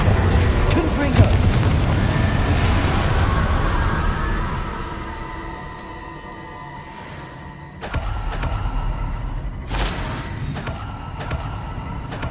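A Confringo spell explodes in Hogwarts Legacy: a sudden broad booming burst cuts in partway through, over ongoing game noise and a voice talking.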